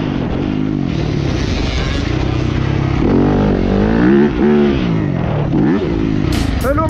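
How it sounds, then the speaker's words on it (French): A Yamaha YZF 250 motorcycle ridden at speed, its small-displacement engine droning loudly and rising and falling through the gears over rushing wind, recorded close on the bike. "Oh comment c'est trop bon de rouler avec cette moto là."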